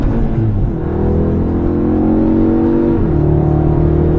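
A 2024 Audi S3 Sportback engine, 333 hp, drones loudly at high revs in manual mode, holding a steady strained pitch that jumps slightly higher partway through, as if bouncing off the limiter.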